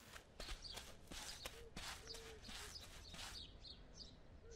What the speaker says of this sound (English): I then added the sound of my character footsteps.